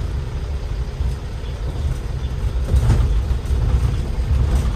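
An Isuzu Elf Short truck drives slowly in second gear over a damaged road, its engine droning steadily from up close, low and loud, with some rattling throughout.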